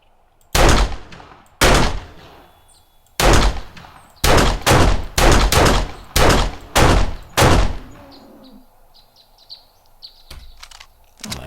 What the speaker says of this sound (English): I'm just going to have to do it with the pistol.